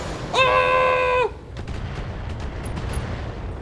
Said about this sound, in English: Oh, we can even fire the PPC this far too.